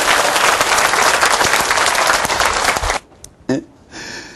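A church congregation at a Revelation sermon bursts into loud, close, sustained clapping for about three seconds, then it stops abruptly, leaving a couple of faint knocks and quiet room noise.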